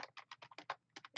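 Quick run of about nine computer keyboard keystrokes, typing text in the Canva design app, close and soft, in an uneven rapid rhythm with no talk.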